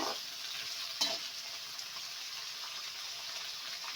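Steady, bright sizzling of spices and coriander frying in hot tempering oil for vangi bath, with a brief clatter of a stirring utensil near the start.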